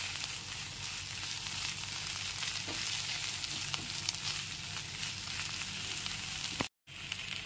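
Lote fish mixture being stirred in a pan over a low gas flame, a steady close sizzle with soft scraping running throughout and a brief dropout near the end.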